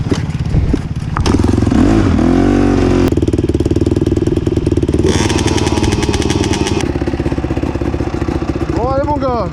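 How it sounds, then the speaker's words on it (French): Motorcycles warm up for sand training at BUD Racing, engines idling and blipping with sharp revs and mechanical clatter, close and loud, while a voice briefly talks over them. "vous pouvez faire chauffer les motos"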